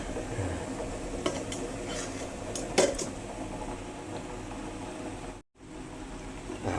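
Kratom and pandan leaves are pressed down into a pot of boiling water, with soft squishing and scraping sounds, a couple of sharper clanks against the pot, and a steady bubbling hiss throughout, close and without speech.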